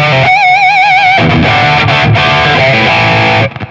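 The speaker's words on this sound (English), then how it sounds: "then you put distortion on." Heavily distorted electric guitar, a Telecaster fitted with a DiMarzio Fast Track T pickup, rings out loud and close, opening with a wavering held note and then chugging chords for a few seconds before cutting off.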